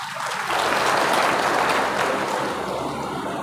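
An audience at a gathering claps loudly for the guru, a dense, sustained burst of applause that swells briefly and then holds steady, with no clear talking.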